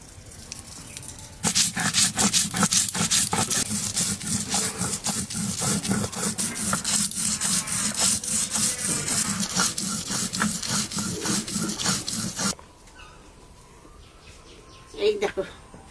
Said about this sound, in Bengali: আস্তে আস্তে আমি মশলাটা বেটে নিই। সর্ষে, সাদা সর্ষে আর কালো সর্ষে।